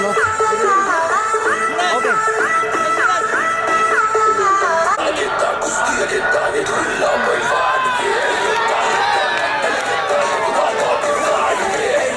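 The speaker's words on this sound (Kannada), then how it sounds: "ಜೋರಾದ ಚಪ್ಪಾಳೆ ಬರಲಿ" A large crowd at a state-level kusti wrestling bout cheers, whoops and claps without pause, a dense and loud wash of voices that stays at the same level throughout, with an announcer-like voice mixed in.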